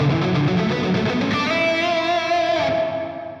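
Electric guitar through a Dunable Eidolon delay and reverb pedal, color control fully up: distorted chords, then a sustained ringing note that blooms into a shimmering, echoing wash and fades away.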